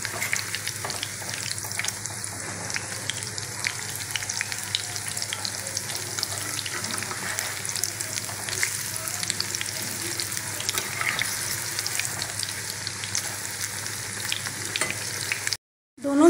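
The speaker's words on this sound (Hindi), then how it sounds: "दोनों साइड क्रंची होने तक इसको हम फ्राई कर लेते हैं।" Pakoras fry in oil in a kadai with a constant dense sizzle and crackle, close and steady throughout, with faint clinks of stirring and a short gap near the end.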